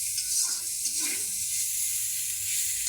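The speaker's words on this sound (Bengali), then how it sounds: "আমি আবারও একটু তেল দিয়ে নিলাম, নিয়ে আবারও একটু নাড়াচাড়া করে নেবো আস্তে আস্তে।" Food stirred in a pan of hot oil, a steady close hiss of sizzling with a few soft scraping strokes, no voices.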